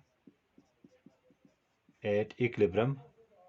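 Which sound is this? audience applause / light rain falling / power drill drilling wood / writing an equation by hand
writing an equation by hand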